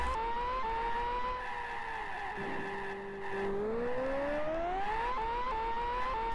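A go-kart engine in the Amiga racing game Virtual Karting II: a continuous buzzing synthesized motor tone rises and falls in pitch with speed, dipping low midway before climbing again, loud and steady with no talk.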